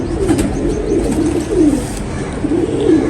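Feeozpuri pigeons coo in a loud, close, continuous stream of rolling low calls, several birds overlapping with no talk.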